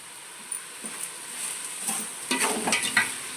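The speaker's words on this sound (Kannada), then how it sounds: "ಟೊಮೊಟೊ ಹಸಿ ವಾಸನೆ ಹೋಗೋವರೆಗೂ ಅದನ್ನು ಹುರ್ಕೋಬೇಕು" Tomatoes with salt being stirred and fried in a pan for bisi bele bath, with a soft steady sizzle and a few scraping stirs growing busier toward the end.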